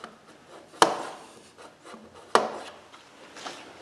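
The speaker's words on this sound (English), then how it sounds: "Work it in, rotate it a little bit. Work that grease in" Grease is worked by hand into a clutch part on a 2007 Hyundai Tiburon SE in a driveway, heard as soft, close rubbing and scraping with two sharper knocks.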